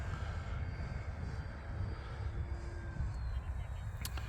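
Continuous distant electric motor and propeller drone from an E-flite T-28 radio-controlled airplane doing a touch and go at a model airfield, with steady background outdoor noise.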